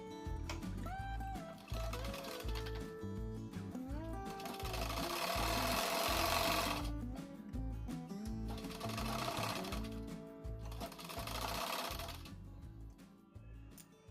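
A domestic sewing machine runs in bursts, stitching a blue piping strip along the leg edges of a newborn baby's panty, its rapid mechanical chatter loud and steady with brief stops and restarts.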